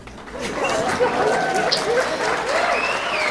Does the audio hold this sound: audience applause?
yes